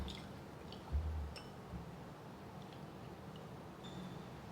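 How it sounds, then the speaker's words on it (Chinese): Lotus seeds being washed in a bowl of water, soft squishing and dripping sounds with gentle sloshing, faint and close, one slightly louder splash early on and quiet trickles after. "放入碗中，来清洗莲子，大概清洗2-3遍就可以了"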